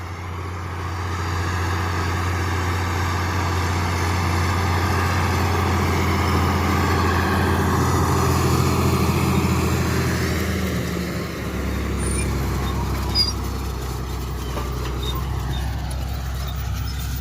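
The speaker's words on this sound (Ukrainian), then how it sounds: "а тут трактор йде вже по після дождя дискованому" An MTZ-1523 tractor drives across a freshly disked, rain-dampened field while sowing rapeseed, its steady engine drone and rumble holding loud and constant throughout, with a slight shift in tone near the end.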